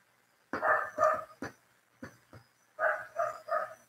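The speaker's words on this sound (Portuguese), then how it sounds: "O Henrique Kennedy, o cachorro tá vendo umas coisas bem loucas lá fora" A dog barks indoors in separate bursts, two quick barks, then a few shorter ones, then a run of three, loud and close against an otherwise quiet room.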